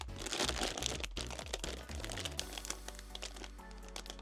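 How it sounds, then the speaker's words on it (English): A plastic bag crinkles and crackles around a boxed pen display tablet being unpacked, close and continuous, with sharp rustling bursts that ease off toward the end. "It's packed in this plastic bag."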